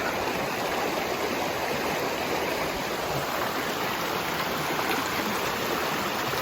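A mountain creek in western North Carolina rushes and burbles nearby, a dense, loud and steady flow of water with no voices.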